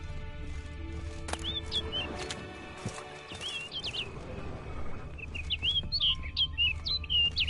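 A bird in the fantasy video game The Witcher 3 calls in short, high chirping bursts, faint at first and then several quick tweets near the end, over a low ambient rumble and a few soft thuds.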